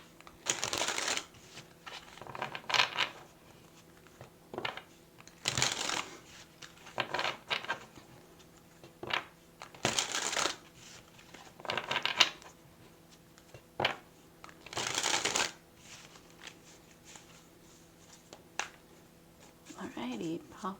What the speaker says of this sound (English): So I'm going to shuffle really good.